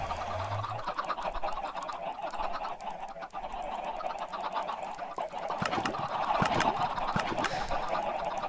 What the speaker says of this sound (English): Those chickens are damn noisy.